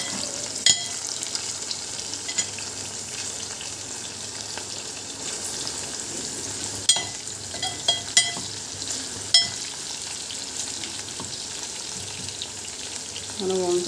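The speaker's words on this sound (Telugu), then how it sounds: "దొండకాయలు ఇలా ఆయిల్లో బాగా ఫ్రై చేసుకోవాలి." Half a kilo of ivy gourd (tindora) fries in oil for a masala curry, a long, even sizzle with occasional sharp crackles and pops, close and uninterrupted.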